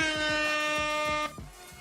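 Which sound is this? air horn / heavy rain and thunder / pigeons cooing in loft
air horn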